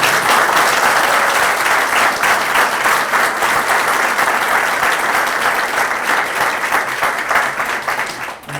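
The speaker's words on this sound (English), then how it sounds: "So let's applaud Ryan for keeping it up" Audience applause at an outdoor groundbreaking ceremony for the MLK Park site in Davenport, Iowa: sustained dense clapping from a sizable crowd, steady and fairly loud throughout before tapering slightly at the close.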